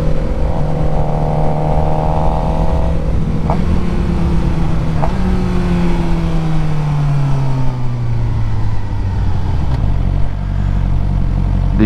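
A Kawasaki Ninja 400 motorcycle pulls away on a street, its engine revving loud and near, then the pitch falls and the sound drifts off as the bike leaves.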